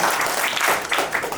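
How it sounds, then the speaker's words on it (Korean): An audience at a talk on super-agers and AI gives a round of applause, a dense steady clapping that swells in small waves, heard without talk. "박수 한번 치시죠"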